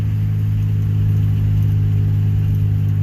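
A steady, even idle from a rebuilt 1991 Geo Metro engine, recorded up close as a constant low hum without voices.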